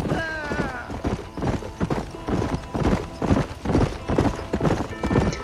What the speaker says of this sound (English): qué chévere suenan los cascos del caballo